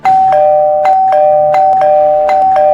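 A doorbell rings again and again, a loud, close two-tone chime repeating in a steady pattern about every half second to second, with no voices.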